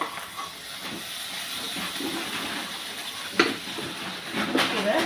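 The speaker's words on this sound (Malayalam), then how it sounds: "എല്ലാം കൂടെ ഒന്ന് റോസ്റ്റ് ചെയ്തെടുക്കാം" Turmeric and chili powder roast in butter in a pan for paneer curry, giving a steady, close sizzling hiss with a few brief crackles near the end.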